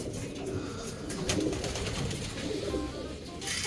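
Pet pigeons in a loft give soft, repeated coos and low murmuring calls close by, the rounded cooing rising and falling over a busy background rustle.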